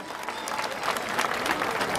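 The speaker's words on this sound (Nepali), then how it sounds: "आजको आराधनामा सहायता गर्नुहुने हाम्रो आराधना झुन्डलाई एकचोटि जोरदार तालीका साथ धन्यवाद दिनेछौँ" Applause for a worship band at an Easter celebration in Thimi, Bhaktapur: dense, steady clapping from a crowd that swells slightly toward the end, sustained throughout with a faint murmur of voices.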